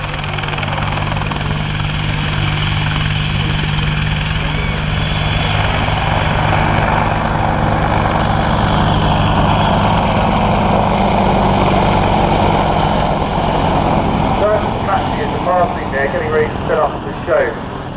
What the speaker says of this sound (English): the Apache will zoom in with its weapons ready to bear and establish itself in a high hover